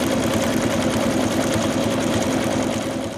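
Close and loud, an embroidery machine stitches belt fabric onto an in-the-hoop Santa doll. Its needle clatters in a continuous rapid hum with a fast, even pulse and no voices.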